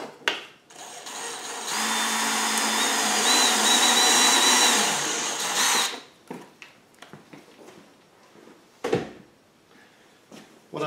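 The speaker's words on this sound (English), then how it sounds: "I use a step drill for the initial hole" A step drill whines loudly for about four seconds while boring a hole for a generator fuel kit, its pitch wavering slightly, followed by scattered clicks and clatter of handling tools.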